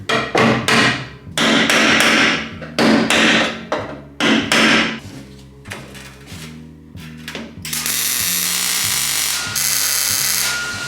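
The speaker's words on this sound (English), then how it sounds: "hammer and chisel here." Repeated loud metallic hammer-and-chisel blows on a barn-find racecar's metal panel in bursts of several quick strikes, ringing sharply, followed by a steadier sustained metallic grinding tone.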